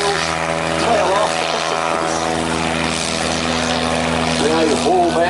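A classic Ennis Bint aeroplane powered by its original 130-horsepower Gypsy Major engine drones steadily as it flies past at an air show, a loud continuous buzzing hum with shifting pitch.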